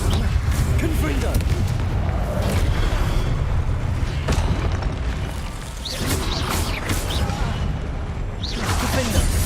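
In the Hogwarts Legacy video game, a Confringo explosion spell goes off amid dense combat noise, with booms, whooshes and a steady background score layered throughout.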